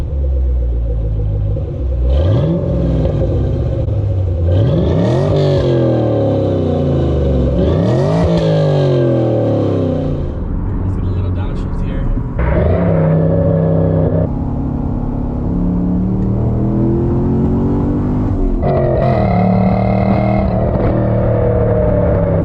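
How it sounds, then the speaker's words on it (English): A fifth-generation Chevrolet Camaro SS V8 with a Flowmaster axle-back exhaust revving hard, engine pitch sweeping up and down through repeated pulls and gear changes, loud, deep and rumbling for over twenty seconds. "Let's get an exhaust clip."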